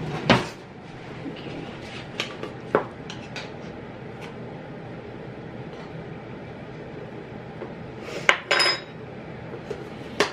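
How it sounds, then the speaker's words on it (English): Spoons and utensils handled in a home kitchen while baking a flour-free chocolate cake, with a few sharp metallic clinks and clatters near the start and near the end over a quiet, steady background. "I need to get a clean spoon since I've got that one wet"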